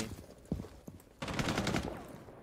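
Submachine gun fire in Rainbow Six: two sharp isolated shots come first, then a sustained rapid burst of gunfire about halfway through that carries on to the end, moderately close.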